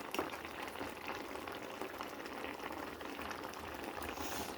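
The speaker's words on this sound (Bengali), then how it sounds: "এবার এটা একটু ফুটবে আর এই বেসনের বড়াগুলো সেদ্ধ হয়ে যাবে।" A pot of gourd curry with besan fritters boils steadily in a village kitchen, giving a continuous close bubbling hiss that stays even throughout with no pause.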